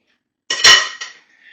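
A metal pastry blender is scraped clean of dough against a bowl in a home kitchen, producing a short metallic clatter and clink followed by a softer scrape, close and alone.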